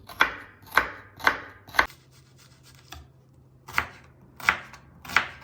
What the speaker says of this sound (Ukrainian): Дрібними кубиками нарізаю цибулю.